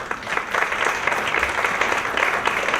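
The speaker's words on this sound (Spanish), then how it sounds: "Un aplauso, por favor." Audience applauding at the closing ceremony of a transparency and access-to-information forum, a dense, steady wash of many hands clapping close by for a few seconds, with no voices over it.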